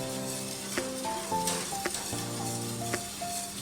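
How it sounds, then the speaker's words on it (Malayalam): Cornflour starch mixture thickens in a hot pan for kunafa and is stirred constantly. A steady sizzle and bubbling sounds under a few light clinks of the spoon, while a faint tonal hum runs in the background. "ഇത് നന്നായിട്ട് ഇനി ഇളക്കിക്കൊണ്ട് തന്നെ ഇരിക്കണം."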